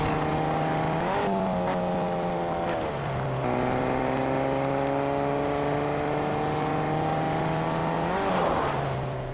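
A car driven in the Fortnite video game, its engine a steady loud drone that climbs in pitch and drops back at each gear shift, running continuously with no talk.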